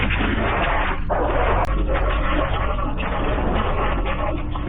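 Dogs bark and yip at a bear, picked up by a doorbell camera outdoors: loud, close, muffled barking that runs continuously without pauses.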